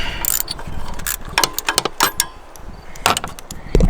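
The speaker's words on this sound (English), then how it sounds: "We are now just going to go ahead and get our ratchet down on these bolts" A ratchet works loose the thermostat housing bolts on a Dodge Cummins 6.7 truck, giving close, irregular bursts of clicking and metallic clanks with short pauses between.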